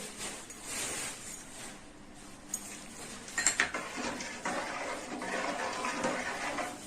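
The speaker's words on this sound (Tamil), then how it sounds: "தண்ணி எடுத்து ஊத்திக்கோங்க." Water splashes and pours into a metal pot while making hibiscus flower rasam, with clinks of utensils against the pan, close by and steady.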